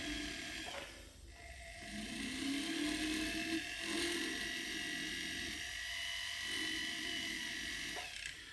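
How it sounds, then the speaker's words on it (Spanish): A jeweler's rotary drill fitted with a 1 mm fissure bur, cleaning between set stones on a platinum rail, whines steadily at close range with brief pitch dips and scraping bursts as it cuts. "yo utilizo fresa de fisura, generalmente 1 milímetro o a veces un poco menos"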